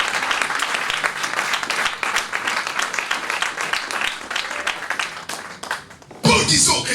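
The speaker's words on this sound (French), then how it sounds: "On va acclamer vraiment le Seigneur." A church congregation claps and cheers in a dense, lively burst of applause that fills the room and thins out briefly near the end, then surges back with a loud cheer.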